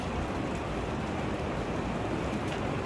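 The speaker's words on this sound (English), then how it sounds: "I'm sure you can hear the rain. It's a bad, stormy day." Rain on a stormy day, a dense steady hiss of falling water heard from indoors, faint and continuous without change.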